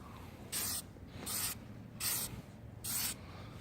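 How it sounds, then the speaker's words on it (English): Enamel spray paint being applied to a GY6 scooter body panel: four separate bursts of hissing spray, each about a quarter second long, evenly spaced with quiet gaps between them, close and fairly soft. "I think what you do is you spray like this and that, you go back and forth."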